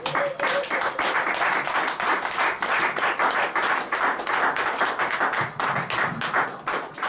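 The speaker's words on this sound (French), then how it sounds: "Acclamons Jésus." A church congregation applauds during a service with dense, continuous rhythmic clapping that holds steady throughout.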